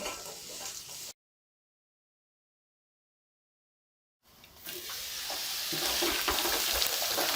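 Potatoes fry in a pan for aloo bhujia with a steady sizzle. A stretch of silence breaks it, then the frying returns louder and crackling.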